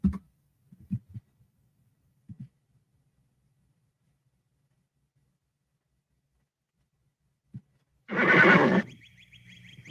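A horse gives a loud, drawn-out whinny near the end, as in a TV theme song, after a few faint soft knocks and a long silence.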